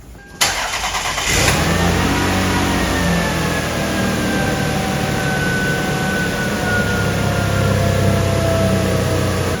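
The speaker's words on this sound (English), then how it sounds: "let's go ahead and turn on the car" Toyota Lexus ES300 engine cranks briefly, catches with a sharp burst and settles into a steady, loud, even idle that continues alone without speech.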